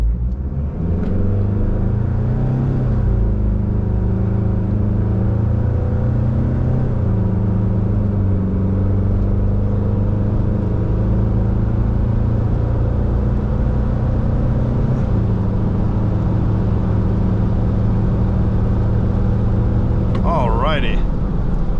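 A 1993 Mitsubishi Pajero 2.8 turbo diesel accelerates hard from a standstill to 60 mph, its loud, close engine drone rising and shifting through the gears for about twenty seconds.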